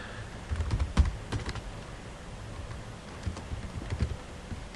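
Keys clatter on a computer keyboard in quick irregular bursts, close and moderately loud, with no one speaking.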